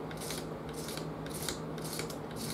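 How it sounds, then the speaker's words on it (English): A hand scraper drawn lightly across the wooden body of a short-scale bass guitar to lift residue, giving about five crisp, rhythmic rasping strokes at close range over a low steady hum. "It's like a cabinet scraper, really, you know."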